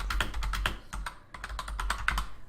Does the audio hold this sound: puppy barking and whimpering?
no